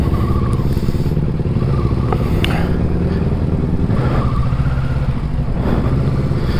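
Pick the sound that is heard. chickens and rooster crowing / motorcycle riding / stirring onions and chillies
motorcycle riding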